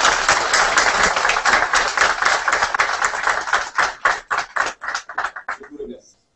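Audience applause at an official ceremony marking the signing of a public-private partnership framework agreement, dense sustained clapping from a large crowd that thins into scattered individual claps before stopping.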